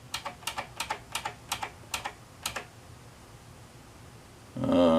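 Keys clack in quick pairs on the keyboard of an 1802 badge computer kit (Lee Hart's Rev. B), close and crisp for about two and a half seconds, then fall quiet before a brief louder sound at the end.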